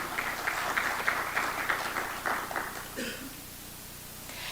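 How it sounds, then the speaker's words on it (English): A moderate ripple of applause from a conference audience at an African energy technology event, loosely clustered claps for a few seconds before thinning into quiet room tone. "I think that deserves a round of applause when we agree."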